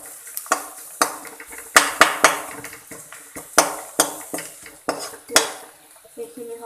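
Masala spices being stirred in a pan for a bitter gourd stuffing, with sharp metal spoon scrapes and clanks against the pan coming in an irregular rhythm over a faint sizzle, close up, no talking.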